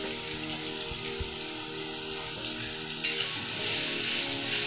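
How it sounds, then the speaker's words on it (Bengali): A spice mixture with cumin powder and salt sautéing in a pan for raw banana kofta makes a continuous, close sizzle that swells louder partway through, with no talking. "মশলাটাকে একটু কষিয়ে নেব"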